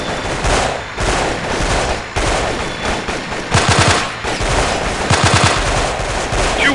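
Automatic rifle fire from a 2004 Delta Force: Black Hawk Down match against smugglers with AKs, loud rapid bursts of shots repeating throughout, with no talk.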